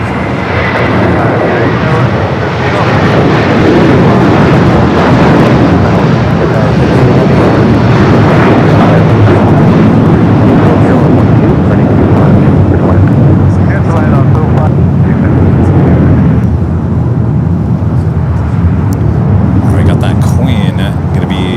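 A jet airliner departs Los Angeles International Airport with a loud, sustained roar that fills the whole stretch, easing slightly near the end, with faint voices under the noise.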